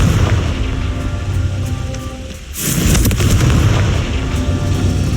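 The Confringo fire spell in the video game Hogwarts Legacy, a loud booming blast that swells suddenly midway over a rumbling, crackling backdrop of continuous game noise.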